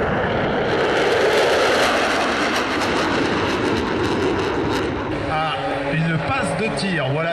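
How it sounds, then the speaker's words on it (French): Mirage 2000 jet fighters sweep past during an air show demonstration at Juvaincourt, a loud continuous roar filling the air, with an announcer's voice coming in over the jets toward the end. "Voilà les Mirage 2000."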